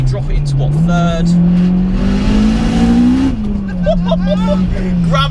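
A 370 BHP turbocharged EP3 hot hatch with a screamer pipe pulls hard from inside the cabin, its engine note climbing loud and steady through the gears with a brief shift dip as a person talks over it.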